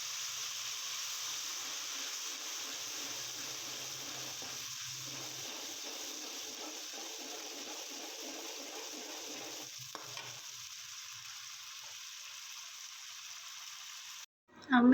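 Spices for a mixed vegetable pulao fry in a pot with a steady, bright sizzle and hiss throughout, interrupted by occasional soft stirring scrapes, and a louder clatter at the very end.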